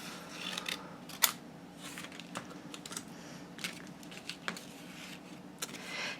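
Paper being cut with scissors while making a handmade mini album, heard as a series of sharp, close snips and crisp clicks spread unevenly over several seconds at a quiet craft table with no talking.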